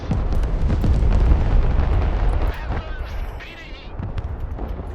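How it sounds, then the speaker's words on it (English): Bombing run explosions in the multiplayer war game Broken Arrow: heavy booming blasts rumble loudly through the first half, then fade to a quieter rumble with scattered crackles. "Here comes that bombing run that I called in."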